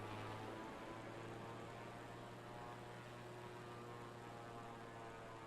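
Propeller plane engine in Microsoft Flight Simulator 2020, a steady droning hum with a low tonal buzz holding constant throughout, no talk over it.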